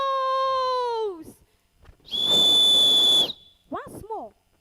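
A whistle is blown during a spoken-word performance at an inter-school stage competition in Accra: one loud, shrill, sustained blast lasting about a second, preceded by a long sliding tone and followed by a couple of quick wavering chirps.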